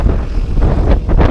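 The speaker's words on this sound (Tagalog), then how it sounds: "yung hampas ng hangin." Strong wind buffets the microphone of a cyclist on the road with loud, rumbling gusts that keep coming.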